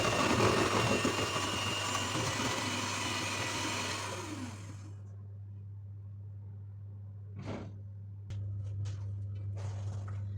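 Cake batter made with baking powder, vanilla and flour is whirred by an electric mixer. The loud motor drone runs for about four seconds, then stops, leaving a low steady hum with a few faint clinks.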